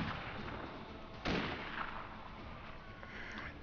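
A single sharp magnum revolver shot in Mount & Blade: Warband's 1860 mod, a sudden crack over a faint steady background, with no talking.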